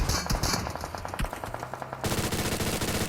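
Rapid bursts of gunfire from the video game PUBG Mobile, during a pistol challenge round: fast, sharp shots crack in quick rhythmic strings, then give way to a dense, continuous burst of firing.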